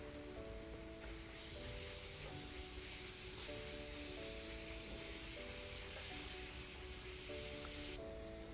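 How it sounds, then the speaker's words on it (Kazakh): Onion and carrot fry in a pan with a steady, bright sizzle that carries on without a break, close up, while faint background music plays underneath. "3-4 минут тағы соны қуырамыз. Пияз бен сәбіз."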